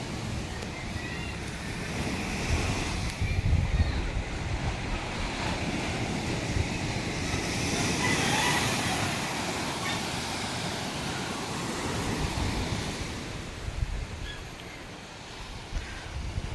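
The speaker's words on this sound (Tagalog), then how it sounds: "Kalmang dagat." Steady wash of calm sea waves near moored fishing boats, with wind buffeting the microphone, a broad continuous roar that swells gently without sharp breaking crashes.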